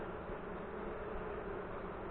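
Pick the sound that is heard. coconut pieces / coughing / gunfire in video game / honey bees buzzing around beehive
honey bees buzzing around beehive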